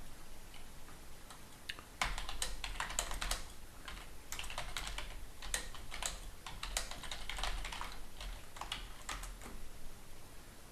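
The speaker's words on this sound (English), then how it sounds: "if you go to the AI demo and you type in a command or a query to the LLM" Steady typing on a computer keyboard, with rapid irregular key clicks that begin abruptly after a quiet first two seconds and keep a brisk uneven rhythm throughout, close and clear with no voices.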